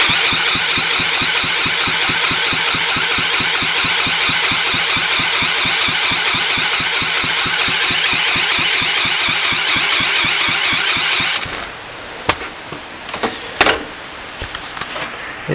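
An engine is cranked over by hand during a compression test, making a steady, loud, close rhythmic chugging for about eleven seconds. It then stops abruptly, followed by a few faint knocks and clicks.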